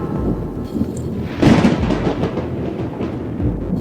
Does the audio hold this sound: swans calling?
no